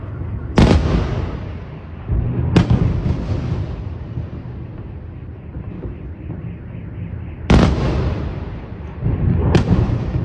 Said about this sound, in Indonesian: Video ini menunjukkan rentetan ledakan dari rudal Iskander M